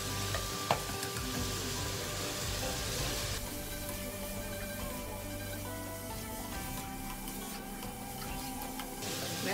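Beef and holy basil stir-fried in a pan for pad kaprao, a steady close sizzle with scraping stirs throughout and one sharp clink near the start, no voices.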